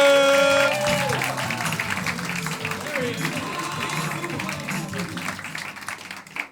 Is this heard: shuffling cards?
no